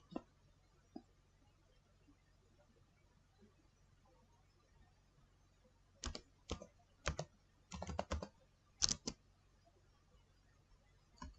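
Several quick bursts of typing on a computer keyboard, clustered in the second half after a mostly quiet stretch, close and crisp with short pauses between key runs.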